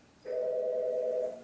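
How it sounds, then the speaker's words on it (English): A single steady electronic telephone ring tone plays for about a second, moderately loud, against a low background hum with no talk. "I think the phone was distracting me."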